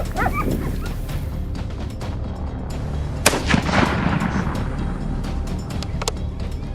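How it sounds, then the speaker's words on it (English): Several sharp rifle shots crack out in a quick burst during a wild hog hunt, with yipping, whimpering squeals nearby and rustling outdoor noise throughout. "The sound of gunfire mingled with the squeals of the hogs."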